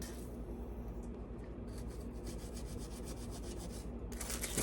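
Oral-B toothbrush dipped in WD-40 scrubs the grooves of a Yamaha outboard lower shift shaft part, making soft, quick, close bristle scratches in short bursts.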